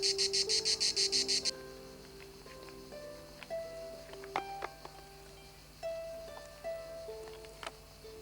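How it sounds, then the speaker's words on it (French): Cicadas buzz in a rapid pulsing burst at the start near Rocamadour in southern France, followed by a faint steady insect drone with scattered bird chirps in the quiet background. "On entend les cigales."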